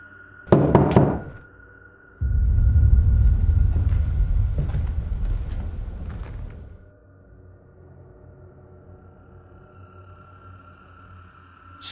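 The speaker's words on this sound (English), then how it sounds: "someone knocks." A few sharp knocks sound on a door inside a house, close and loud, followed by a long low rumbling that fades into a quiet steady hum.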